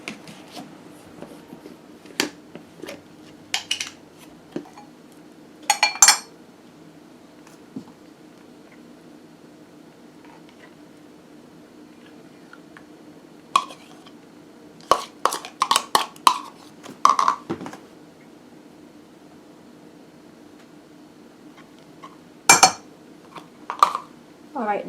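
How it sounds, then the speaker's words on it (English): Two large spoons work through potato salad dressed with mayonnaise and chives, giving scattered scraping clinks against the bowl in short bursts separated by quiet stretches, close and moderately loud. "gently mix with 2 large spoons, just long enough to coat the mixture"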